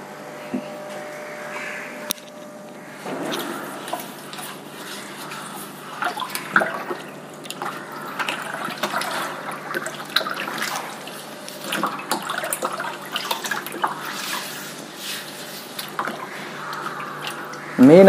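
An aquarium filter sponge is washed in water, with irregular splashing, sloshing and squeezing sounds close by, continuing throughout, while someone speaks Tamil at times.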